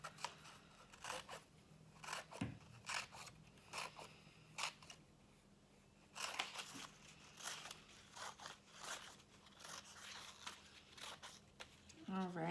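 Scissors cut a fringe across a sheet of paper in a series of crisp, quiet snips that come in short bursts with brief pauses, close to the listener. A voice speaks faintly at times.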